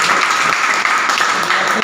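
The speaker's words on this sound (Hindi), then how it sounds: "देवासी सर के लिए ताली बजाइए" Audience applause for a teacher at a commerce coaching institute's first anniversary event, a dense, steady clapping from a crowd that is loud and continuous.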